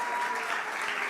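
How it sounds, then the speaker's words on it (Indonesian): A church congregation at a worship service in Batam breaks into a short burst of dense, loud applause, many hands clapping at once with a voice faintly beneath. "Beri tepuk tangan dulu buat Tuhan Yesus."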